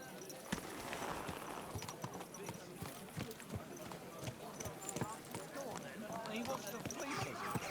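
Horse hooves clip-clopping on city ground in Kingdom Come Deliverance 2, a steady run of quiet, close hoof strikes under a voice.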